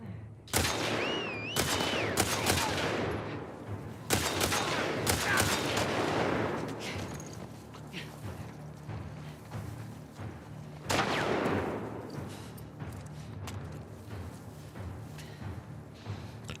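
Video game gunfire in bursts: sharp, loud shots with echoing tails, clustered early, then a lone shot near the middle and another burst later, with quieter gaps between.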